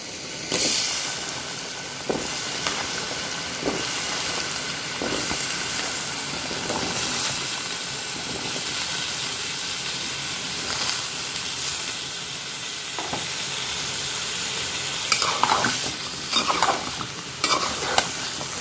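Potatoes fry in an oil-filled pan with a continuous loud sizzle and hiss, while a utensil scrapes and stirs them at irregular intervals, close up, with no voices.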